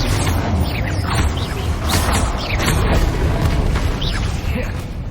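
Bombarda spell blasts in the Hogwarts Legacy video game, a dense run of booming bursts over a constant rumbling game soundscape, with a voice audible now and then in the mix.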